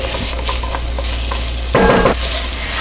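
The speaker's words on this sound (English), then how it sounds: "I'm sauteing the carrots, onions, and garlic for a few minutes until they start to soften" Carrots, onions and garlic sauteing in a pot, a dense loud sizzle with light spoon taps and a burst of heavier stirring near the end, close and without talk.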